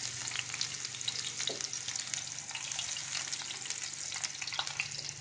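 Onions frying in hot oil in a frying pan for a tempering for mong masoor dal, a continuous soft crackling sizzle with light stirring, even and fairly quiet throughout.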